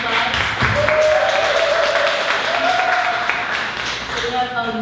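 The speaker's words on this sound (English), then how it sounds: "Give all these authors a round of applause." An audience applauds authors at a book convention, with dense clapping that fills the room and stays loud throughout, mixed with voices.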